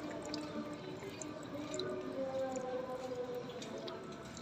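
Water rinses thickly caked grime off Honda Click V3 scooter parts during brake shoe cleaning, a faint, continuous splashing and dripping wash.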